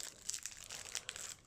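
Plastic wrapping on a Goblivion card deck crinkles and crackles at close range, a steady run of rustling with sharper snaps, no talking.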